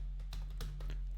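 A computer keyboard is typed on while writing code, with a few separate key presses close by over a steady low electrical hum.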